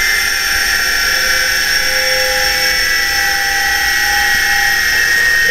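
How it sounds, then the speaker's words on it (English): A grinder whines steadily and loudly, grinding holes into a rusty fuel tank for a Mustang, a continuous high-pitched tone with no voices. "You're grinding holes in my rusty tank."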